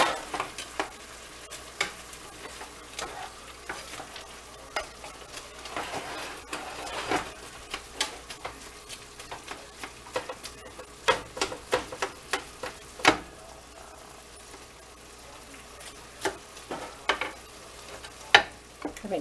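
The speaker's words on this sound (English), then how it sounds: "Let's stir it up to see." Ground beef and macaroni casserole is stirred in a pan, with a steady soft sizzle and repeated scraping and clicking strokes of the utensil, close and alone for about twenty seconds.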